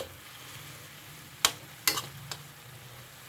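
Pork adobo with bay leaves sizzles softly in a pan while being stirred, with a few sharp scraping clacks of the spoon standing out over the quiet frying.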